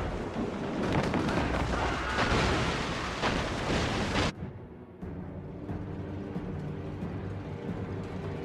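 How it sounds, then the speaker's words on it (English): Ship mortar fire in the naval combat of the game Assassin's Creed Rogue, with heavy booming blasts and rumbling crashes that build over several seconds, then cut off abruptly to a quieter low ambient drone. "Mortars would prove most advantageous right now."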